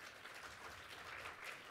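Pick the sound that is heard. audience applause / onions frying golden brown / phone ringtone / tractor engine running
audience applause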